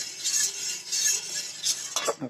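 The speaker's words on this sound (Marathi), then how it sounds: "ह्याला सारखा असा हलवायचं" Thick edible-gum (dink) kheer stirred in a pan over low gas, making soft repeated scraping and light metallic clinks, close and fairly quiet, with no talk.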